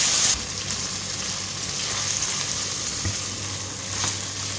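Steady frying sizzle of onions with garlic-ginger paste in a pan, a continuous crackling hiss at moderate level with faint stirring clicks now and then.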